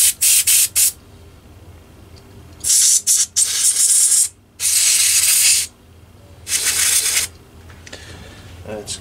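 Carburettor cleaner sprayed through the tiny holes of a lawn mower carburettor's emulsion tube: sharp aerosol hisses in short bursts and longer blasts, loud and close, separated by quiet pauses, with no voices.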